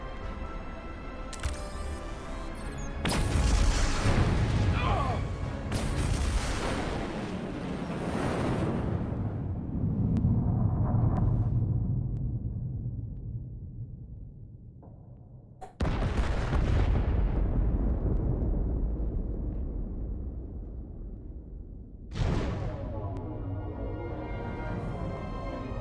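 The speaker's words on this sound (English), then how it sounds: "Und Feuer. Detonate." Several heavy detonation blasts in the video game Star Trek Resurgence, each a loud broadband boom with a long rumbling decay, the biggest striking near the start and others following at about 16 and 22 seconds.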